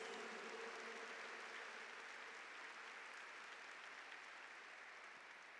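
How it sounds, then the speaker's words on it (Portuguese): A church congregation applauding together in sustained, even clapping, fairly distant and soft, with no speech over it. "Vamos aplaudir a palavra de Deus."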